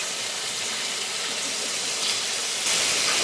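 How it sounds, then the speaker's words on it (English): Meat browning for chili in a hot pan gives a steady, broad sizzle and hiss that swells louder near the end. "We're just getting some browning on it for flavor."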